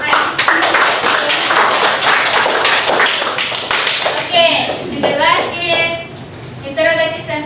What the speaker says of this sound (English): Give applause for your friend.